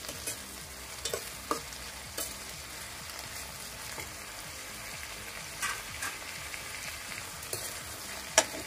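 Tomatoes fry in a pan for an egg masala gravy, producing a soft, continuous sizzle. Occasional sharp scrapes and clicks of stirring come through, and everything stays quiet and close with no talking.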